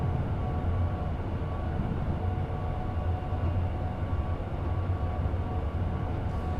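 A Class 710 electric train in Train Sim World 5, running with a sound mod, gives a steady low rumble and hum of rolling stock, continuous and moderate in level, with no talk.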